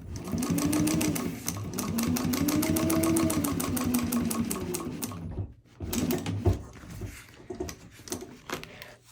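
A sewing machine topstitches along the top edge of a purse seam at a narrow 1/8 inch allowance, running in a steady rapid needle rhythm for about five seconds, then stopping, followed by a few close clacks and handling noises.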